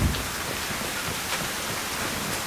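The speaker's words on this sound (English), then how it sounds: "It's raining." Steady rainfall in Mass Effect 2, a soft, continuous hiss of drops on surfaces, moderately quiet and unbroken, with no voices.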